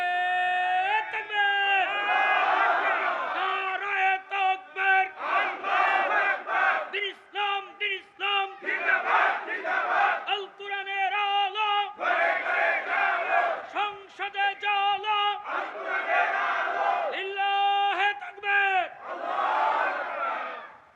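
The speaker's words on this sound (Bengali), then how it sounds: "লিল্লাহে তাকবীর দেন, তাকবীর দেন দেখি।" A large crowd at a religious sermon gathering chanting takbir in unison, loud repeated call-and-response shouts that rise and fall in waves over about twenty seconds.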